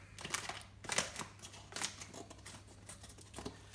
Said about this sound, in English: take a pair of scissors, and we just need to cut the valve away from the bag